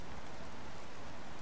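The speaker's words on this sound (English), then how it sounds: "Oh, it must be raining out" Steady rain in the video game The Planet Crafter, a dense, even hiss of falling drops that runs unbroken throughout with no voices over it.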